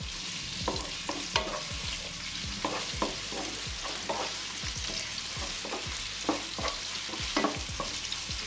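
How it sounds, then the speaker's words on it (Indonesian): Minced chicken stir-fried in a pan for a long-bean dish: steady close sizzle with repeated scraping strokes of a spatula against the pan, spaced roughly every half second, with no voices. "Kita tumis."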